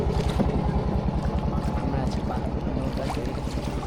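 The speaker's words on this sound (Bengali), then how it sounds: "যেগুলো মেশিনে চালিত নৌকাগুলো আমরা যাচ্ছি" An engine-powered boat chugs steadily along a river near Jaflong, its motor producing a continuous, close, throbbing drone with a fast even pulse throughout.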